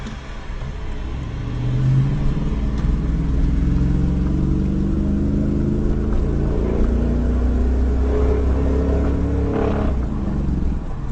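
A Dodge Ram truck with a 5.7 litre engine drives along, its low rumbling engine note rising slightly as it pulls away, then holding a steady close drone with faint wind and road noise throughout.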